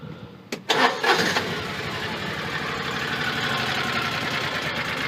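Fuel-injected Kawasaki FD620 engine on an ATV cranks briefly and fires up within a second, then settles into a steady, rhythmic idle thumping close by.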